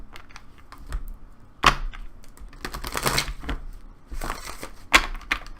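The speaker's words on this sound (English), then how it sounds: "One more shuffle." Tarot cards are shuffled by hand, giving irregular bursts of crisp riffling and snapping clicks with a few sharper slaps, close by and with pauses between shuffles.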